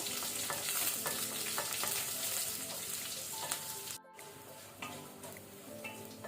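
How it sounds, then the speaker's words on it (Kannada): Garlic and green chillies fry in hot oil for a breadfruit palya with a dense, steady sizzle and occasional stirring clicks, briefly cutting out for a moment before continuing. "ಗಾರ್ಲಿಕ್ ಬೆಳ್ಳುಳ್ಳಿ, ಹಸಿಮೆಣಸು, ಗ್ರೀನ್ ಚಿಲ್ಲಿ ಇದನ್ನು ನಾವು ಸ್ವಲ್ಪ ಫ್ರೈ ಮಾಡ್ಕೊಳ್ಳುವ"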